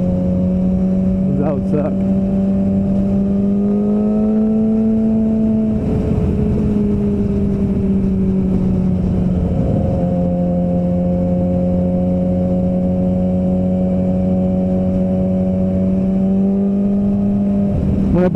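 A Suzuki GSX-R 600 track motorcycle engine runs loud and close in a steady drone, its pitch rising and falling slightly over the length of the clip while someone briefly speaks over it.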